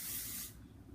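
Bumble dry shampoo sprayed onto hair in a single close, loud hissing burst lasting about half a second, then a faint rustle of hair.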